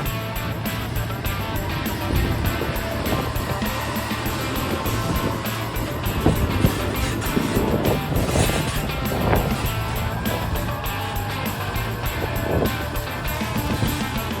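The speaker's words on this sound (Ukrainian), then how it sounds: "Не тільки я маю шанс протестити нового трактора, за кермом моя дружина." A new tractor drives along with its engine humming and rumbling at a steady pace, mixed with some wind buffeting, heard up close for a long continuous stretch.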